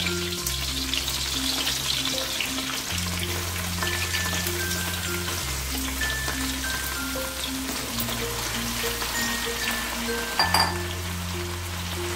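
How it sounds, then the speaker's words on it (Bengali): Rice and lentils fry in a pan with potato, pumpkin and pointed gourd, giving a continuous crackling sizzle under steady background music. "দিয়ে চাল ডাল ভালো করে সব কিছুর সাথে ভেজে নেব"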